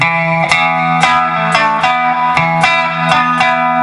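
An electric guitar plays a well-known lick, a repeating run of sharply plucked, fairly distorted notes in a steady rhythm, heard up close with no voices.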